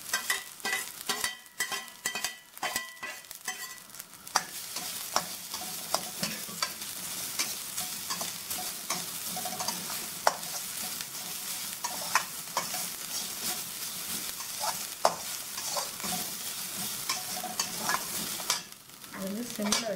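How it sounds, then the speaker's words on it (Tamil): Fennel seeds, onion and coconut frying in oil for a Tamil egg gravy, with a dense crackling sizzle and frequent scraping stirs from a spoon. No one speaks. "பெருஞ்சீரகத்தை போட்டு அது வந்து பொரியணும்."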